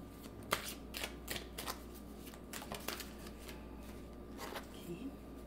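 Playing cards being shuffled close by, a series of quick crisp riffling bursts spread across several seconds, quiet overall, with no speech heard.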